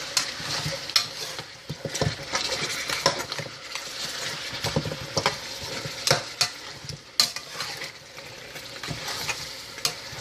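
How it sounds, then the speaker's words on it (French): Meat searing in a pot for Haitian soup joumou, a constant frying sizzle broken by repeated clattering stirs and utensil scrapes against the pot, close and fairly loud with no talk. "On fait saisir notre viande 3 à 4 minutes."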